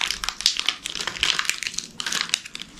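Crinkly plastic wrapper of a Hershey's chocolate bar being torn and opened, a steady run of close, bright crackling and rustling with no voices.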